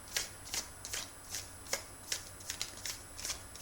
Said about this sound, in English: while I am shuffling this deck